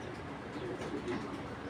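A pair of large pigeons coo softly in a loft, low murmuring calls heard faintly against a steady wash of background noise. No one speaks.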